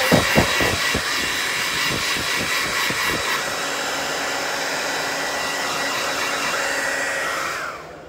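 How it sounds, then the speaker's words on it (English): A blow dryer drying fresh paint roars loudly and close after a few sharp knocks at the start, running steadily as one continuous whoosh before cutting off at the end. "And then I'm about to throw the blow dryer on it."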